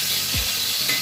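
Garlic frying in a hot pan gives a continuous bright sizzle, loud and close, with a soft low stir or scrape partway through and no speech.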